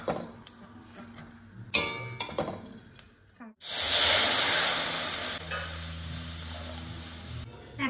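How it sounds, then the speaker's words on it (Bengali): Vermicelli sizzles and hisses loudly in a hot pan after a few clinks and stirring knocks, the frying noise swelling midway and holding steady for several seconds. "সিমুইটা হালকা লাল লাল করে আমি সিমুইটা এখন ভেজে নেব।"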